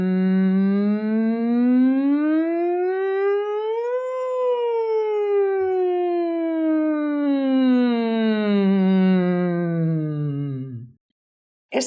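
A single voice imitates a siren in one long sustained tone, rising smoothly then gliding slowly back down for about eleven seconds before stopping abruptly.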